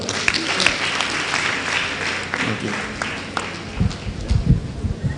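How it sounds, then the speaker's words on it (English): Applause from an audience at a Nigerian awards and honours celebration in Ondo Kingdom, a steady patter of clapping with crowd murmur that swells louder near the end as someone talks over it. "another round of applause for him"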